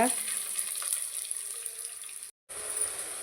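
Quiet, even sizzle of finely chopped onions sautéing in oil toward golden brown for prawn gravy, steady and close, with a brief dropout near the end.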